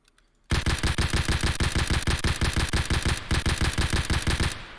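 SKS rifle firing a long, steady string of rapid shots in a video game, loud and close with an even rhythm that runs for several seconds without pause.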